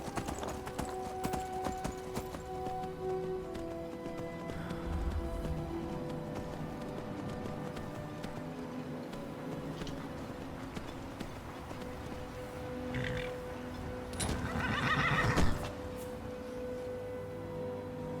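Steady clip-clop of horse hooves trotting throughout, with a brief whinny near the end over a background of game music and ambience, in Skyrim.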